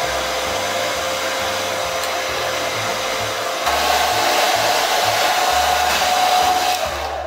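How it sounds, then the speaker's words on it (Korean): A hair dryer blows steadily on a medium setting while a comb works through fringe hair, a constant airy whoosh with slight shifts in intensity as the dryer moves, close and loud. "드라이기 중간 바람이랑 빗으로"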